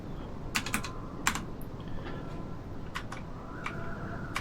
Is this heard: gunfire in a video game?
no